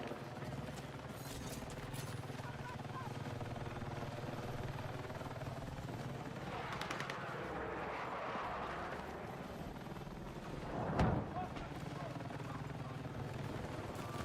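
A helicopter in the video game Battlefield 6 drones continuously with a low, rumbling rotor sound at fairly low volume, joined by a brief louder burst near the end.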